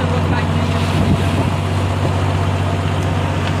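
A boat's engine drones steadily in rough water, with wind buffeting the microphone and waves washing around the hull, a loud continuous rumble with no break.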